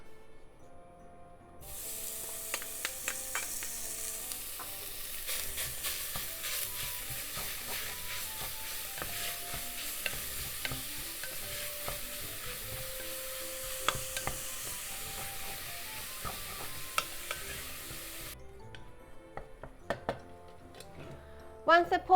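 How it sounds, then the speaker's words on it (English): Pork pieces fry in their own rendered fat in a pot over medium-high heat, producing a soft, steady sizzle and spatter that fades out near the end, with quiet music underneath. "Heat up the pot over medium to medium-high heat and let's cook the pork first. No oil needed. Fat will come out from the pork."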